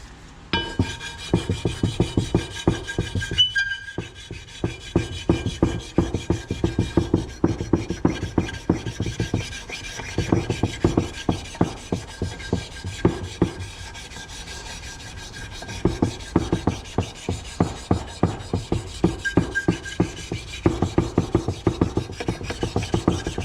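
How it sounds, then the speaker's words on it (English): A KX250F cylinder head's gasket surface is rubbed by hand with WD lubricant, giving repeated rasping back-and-forth strokes in a steady rhythm, close and moderately loud, with a brief pause partway through. "Now what we're going to do is we're going to prep the gasket surface."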